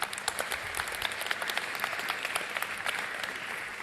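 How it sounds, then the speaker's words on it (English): A large crowd applauds at a talk in Lagos, sustained dense clapping with sharp individual claps standing out, moderately loud and steady with no speech over it. "can we do another round of applause?"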